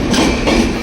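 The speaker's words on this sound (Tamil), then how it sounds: "நாங்கள் போகிற ட்ரெயின் வந்துருச்சு." A train pulling into a station platform, its steady loud rumble and wheel clatter filling the short moment with continuous broadband noise and no voices.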